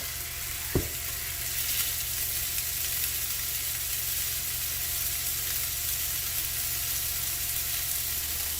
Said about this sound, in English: So I'm done searing my filet mignon